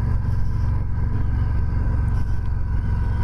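Harley-Davidson Softail Street Bob 107 bobber motorcycle running with a low, steady rumbling engine note, close and continuous throughout with no talk.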